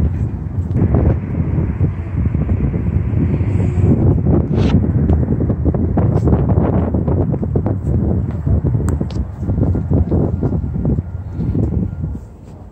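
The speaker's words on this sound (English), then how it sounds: "It's getting windy and cold out here" Strong wind buffets a microphone outdoors at a new-home construction site, producing loud, continuous low rumbling gusts that rise and fall throughout.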